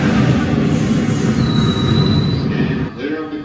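An R110A New York subway car on the downtown local 1 line arrives with a loud rumbling roar and a sustained high wheel squeal midway, easing as it slows near the platform.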